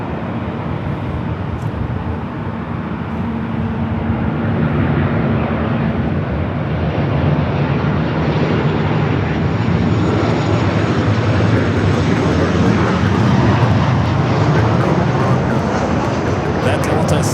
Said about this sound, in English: Arrival on the south side, Qantas Flight 11, coming in from Sydney,